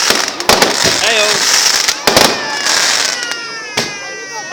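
Fireworks bang and crackle on bonfire night in a rapid burst of loud, sharp explosions, with whistling rockets rising and popping between the blasts.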